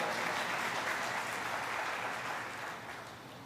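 Applause from an audience at a Hindi devotional discourse on Shri Ram: a dense, steady wash of many hands clapping at moderate volume that slowly fades toward the end, with no talking.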